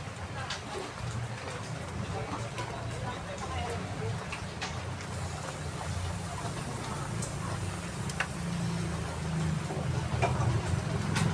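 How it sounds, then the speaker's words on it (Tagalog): Heavy rain pours steadily at night outside a roadside vendor's stall, a dense continuous wash of drumming with low rumble throughout, a voice talking intermittently over it. "Lakas ng ulan oh."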